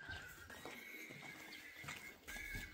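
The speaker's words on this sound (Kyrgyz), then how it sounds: "1 жаш болгон тай." A one-year-old Kyrgyz colt neighs and whinnies, a shrill high call rising twice over a few seconds and heard fairly close and clear, with faint hoof clip-clop beneath.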